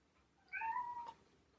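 A pet cat named Izzy gives one clear, fairly close meow lasting about half a second against a quiet room.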